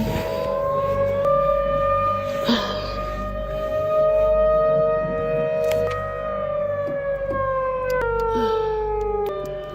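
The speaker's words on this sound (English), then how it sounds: "the peaceful night was shattered by blaring sirens" A civil defense siren blares for a tornado warning at night near a campsite, a loud sustained wail rising and falling steadily throughout, with no talk over it.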